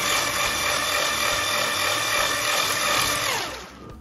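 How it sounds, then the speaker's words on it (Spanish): An electric whisk beats pumpkin carrot cake frosting with a loud, steady motor whir that holds constant, then winds down and stops near the end. "ahora para montarlo cogemos varillas"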